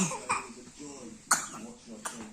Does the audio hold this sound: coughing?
yes